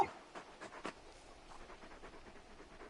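A big dog pants in a video game: quiet, rhythmic, breathy huffs repeat steadily with nothing else over them.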